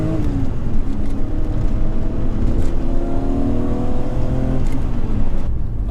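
A BMW E34 M5 with its 3.6-litre straight-six accelerates hard, the engine note climbing steadily in a loud, continuous rising drone heard from inside the car, with no talk over it.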